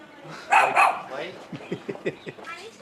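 A dog gives two loud barks early on, followed by softer yips and short whimpering sounds while a person talks nearby.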